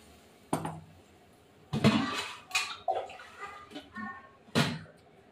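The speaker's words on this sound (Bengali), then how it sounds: "এখন মিক্সারে বাটিটা ধুয়ে জল দিয়ে দিলাম।" Water is poured into a mixer grinder jar and swirled to rinse it in a home kitchen, making a few short close splashes with light clinks of the jar between quieter pauses.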